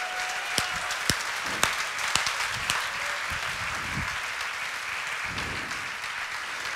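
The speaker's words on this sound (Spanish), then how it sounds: "Dale un aplauso al Rey de Gloria" A church congregation applauds during a sermon, a spread of clapping with a few sharp, louder claps near the start, continuing at a moderate, somewhat distant level.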